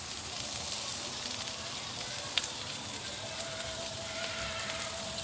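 Seafood, tomatoes and onions cooking for paella on a Blackstone griddle give off a steady, close, dense sizzle and hiss that runs unbroken throughout.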